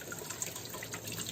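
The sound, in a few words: tap water running while cleaning a crab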